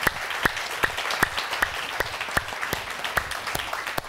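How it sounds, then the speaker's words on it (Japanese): A church congregation claps in applause during a bilingual service, with sharp, closely spaced claps forming a loud, steady patter throughout. "Give the Lord a clap offering."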